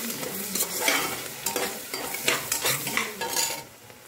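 Ginger powder and green chili paste are stirred in a hot pan, producing a steady, close sizzle with continuous scraping and stirring strokes throughout, with no one talking.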